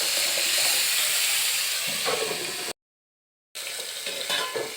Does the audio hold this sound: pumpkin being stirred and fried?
yes